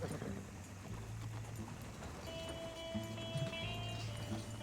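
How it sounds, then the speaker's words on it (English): Horse hooves in Red Dead Redemption 2, soft clip-clop steps moving along under ambient outdoor game sound and a thin musical tone, moderately faint. "I just heard a horse."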